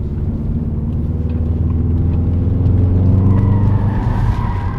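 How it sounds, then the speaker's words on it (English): A Saab 9-2X Aero on all-season tires breaks traction, its loud engine droning and climbing in pitch over a rough roar of tire and road noise. "she breaks traction really easily"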